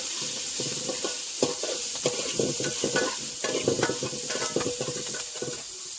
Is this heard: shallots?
yes